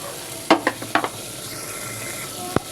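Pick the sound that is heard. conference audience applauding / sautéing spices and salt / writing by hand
sautéing spices and salt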